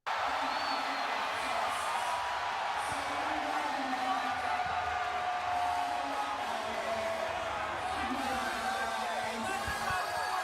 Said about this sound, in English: the crowd just erupted like a volcano